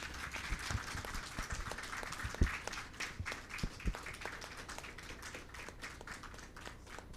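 A conference audience claps for the chief guest after a token of appreciation, a thin, scattered round of individual hand claps, fairly quiet and distant, with no talk over it.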